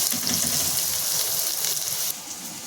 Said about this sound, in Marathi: लगेचच आपण त्याच्यामध्ये कांदा टाकूया आणि हे चांगलं आपल्याला परतून घ्यायचं